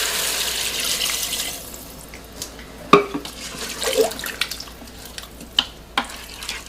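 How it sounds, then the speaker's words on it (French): Water poured into a cooking pot, about 700 ml, with a steady running splash that gives way to scattered drips and clinks as the pot settles, heard alone at close range. "J'ajoute 700 ml d'eau."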